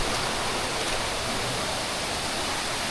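A multi-tiered waterfall in the hills near Murbad pours down with a dense, unbroken roar, loud and close, with no voices over it.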